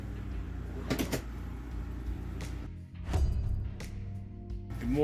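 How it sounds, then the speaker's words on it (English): Several soft thuds of soft-close drawers sliding shut in a converted school bus, spaced a second or two apart, over a low steady hum in a quiet room. "I like the soft closed drawers."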